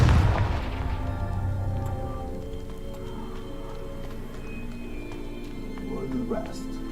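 A loud explosive boom from a fire spell in Hogwarts Legacy, bursting at the start and decaying into a long ringing, crackling tail with game music and effects underneath.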